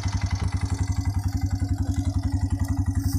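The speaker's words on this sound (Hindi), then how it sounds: "ऑन कर दिए बाइक को, अभी किक मारते हैं।" A desert bike's single-cylinder engine runs close and loud after a kick start, thumping in a steady rapid beat as it idles with a mechanical clatter.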